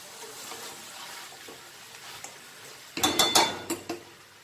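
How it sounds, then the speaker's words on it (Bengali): Mutton being stirred in a cooking pot with oil, giving a cluster of scraping, clinking utensil-on-pot sounds in the last second and a half after a quiet stretch of faint kitchen background. "নুন দেওয়ার পরে নাড়াচাড়া করতে হবে যাতে নিচটা লেগে না যায়"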